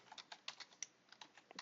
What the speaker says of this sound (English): I'm going to type the word script